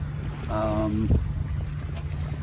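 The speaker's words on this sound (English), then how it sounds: "The wind did pick up, miraculously, I guess, just about the time we got out into the open" Wind rushes steadily past a sailboat beating close-hauled off the coast of Maine, a constant broad hiss with a brief tonal voice-like sound near the start.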